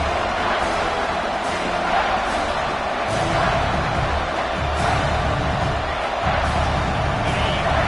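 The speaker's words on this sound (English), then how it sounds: "This crowd knows when to bring it." Stadium crowd at an Indiana Hoosiers versus Oregon Ducks football game, a steady dense roar of cheering held loud for several seconds with brief louder swells, no clear voices standing out.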